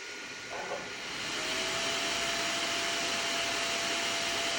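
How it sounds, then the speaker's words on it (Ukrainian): Cooling fans of a Powmr solar inverter spinning up on the test bench during repair diagnostics, a steady broadband whooshing hiss that grows louder after a second and then holds, with a faint tonal whine. "Вентилятори тут шумні."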